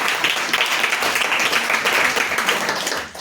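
A church congregation claps loudly and continuously at a sermon, a dense, sustained wash of many hands that holds steady for several seconds and then begins to fade at the very end.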